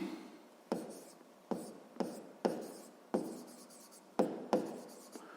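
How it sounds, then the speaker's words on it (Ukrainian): A pen writes out a sixth-grade math exercise on proportions, giving a series of distinct scratching strokes, each starting sharply and trailing off, in an uneven rhythm of about ten strokes, close and quiet. "Записуємо тоді перше завдання"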